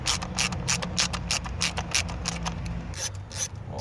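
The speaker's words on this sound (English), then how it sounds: "I'm just gonna unbolt all these little brackets." A hand ratchet clicks rapidly and steadily while unbolting small brackets on the engine of a 2002 Mitsubishi Lancer, the close, crisp pawl clatter running throughout in quick bursts without talk.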